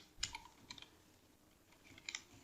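Faint, sparse keystrokes on a computer keyboard while JavaScript code is being typed: a few soft click clusters near the start and again near the end, with quiet gaps between.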